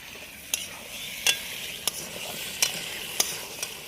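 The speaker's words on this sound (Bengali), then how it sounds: "মশলা আর গাটি কচু ভালো করে কষে নেব" Taro is stir-fried with spice masala in a pan. A steady, soft sizzle runs throughout, broken by six sharp spoon scrapes at fairly regular intervals. No voices.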